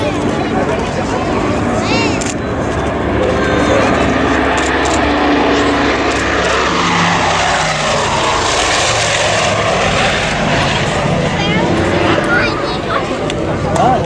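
Lockheed Super Constellation with triple tails and four Wright R3350 turbo-compound radial engines of 3,400 horsepower each, flying at an airshow; a loud, sustained propeller drone fills the whole stretch, with a voice speaking over it.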